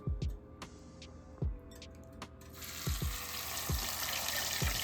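A breaded chicken cutlet for chicken parmesan drops into a hot pan and starts to fry. A broadband sizzle builds from about halfway through and holds steady, with several sharp knocks and clatters of utensils scattered throughout.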